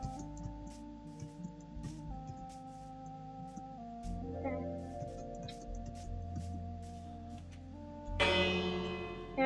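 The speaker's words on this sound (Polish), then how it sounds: "Jak dzwonię dzwonem, to znaczy, że samicy się chowają do domu." A bell from the Minecraft video game tolls repeatedly in an even rhythm, clear and moderately loud over soft ambient game sounds, with a brief burst of hiss near the end.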